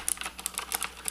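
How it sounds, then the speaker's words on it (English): Keys on a Razer BlackWidow Ultimate mechanical keyboard clack quickly and unevenly in a short burst of crisp clicks, close and fairly quiet, with no talking. "This is the sound of a mechanical keyboard"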